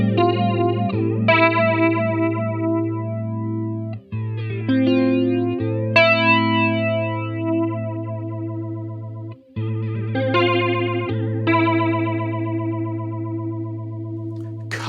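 An EHX Deluxe Electric Mistress XO flanger pedal turned up high, giving sustained electric guitar chords and notes that sweep and whoosh with a deep, swirling jet-like flange, loud and continuous with no talking.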